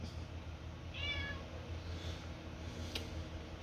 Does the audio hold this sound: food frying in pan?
no